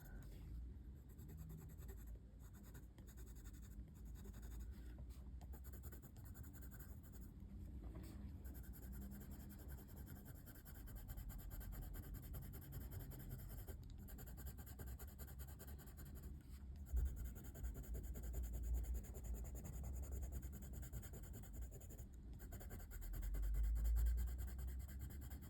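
Colouring pencil strokes blend on paper, a soft, close, continuous scratchy rubbing with brief pauses between passes, quiet throughout.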